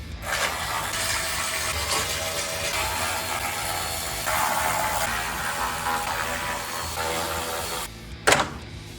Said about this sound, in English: So I'm gonna have to quickly unbolt this valance holder piece.